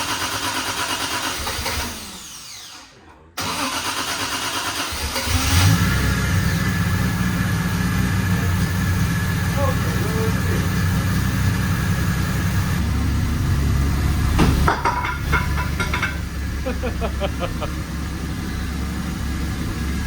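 A 1970 Triumph TR6 engine cranks, falls briefly silent, then catches and settles into a steady, close, rumbling idle that swells slightly before easing back.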